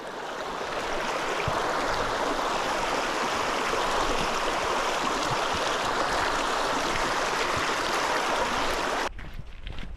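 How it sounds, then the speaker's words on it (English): A Highland burn in full spate in Glen Feshie, rushing water roaring steadily and loud close by with splashing as someone wades through it, cutting off abruptly near the end. "So that burn was in full flow there."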